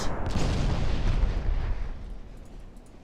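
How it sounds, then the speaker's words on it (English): A heavy naval gunfire impact on a cruiser in the warship game Ultimate Admiral Dreadnoughts, a loud booming blast rumbling off into a fading roar. "Still, the Daka Cruiser is taking heavy fire."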